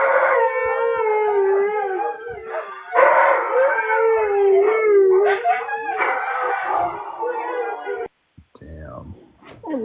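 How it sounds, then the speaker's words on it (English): Several huskies howl together in long, wavering, overlapping tones, loud and close, for most of the stretch, with a brief quiet gap near the end before the sound resumes. "you guys want to hear what huskies sound like when they howl?"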